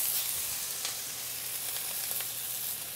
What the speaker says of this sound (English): olive oil is gonna go in the pan and it is gonna be extremely hot and smoking, close to catching on fire. In goes our pork.